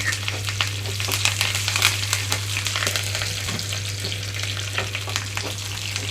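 Curry leaves and tempering spices with garlic sizzle loudly in hot oil, a steady close crackle with frequent pops and stirring scrapes throughout, no voices.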